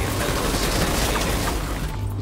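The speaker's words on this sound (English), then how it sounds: "I got the explosive fire starter. I just set it off on my turret." An explosive fire starter set off on a turret in Division 2 produces a dense, loud, continuous roar of blasts and crackling fire filling the whole short stretch.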